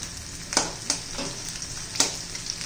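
Softened onions fry in a pan for soybean chilli, giving a steady close sizzle broken by a few sharp spatula scrapes; no talking.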